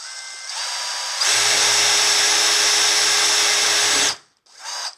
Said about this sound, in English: So I'm gonna go ahead and pre-drill this.